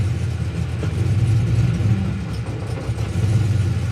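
An LS V8 fitted with a swapped camshaft idles in gear in a home garage, giving a steady, loud, low rumble with a slightly lumpy pulse that holds alone for the whole stretch.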